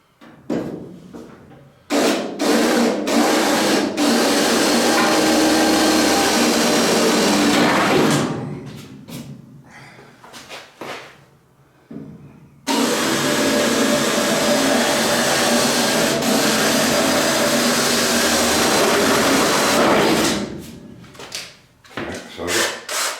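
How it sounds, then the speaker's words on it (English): A power drill bores pilot holes in a car body panel where an aerial and a repeater indicator light were mounted, in two long loud whining bursts with short pauses and handling knocks between. "I'm just going to drill a pilot hole in where the aerial was, and a pilot hole where this repeater indicator light is"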